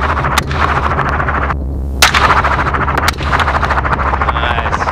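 Sharp gunshots crack during a helicopter hog hunt, a few loud reports spaced over a steady, close rotor throb that runs underneath throughout.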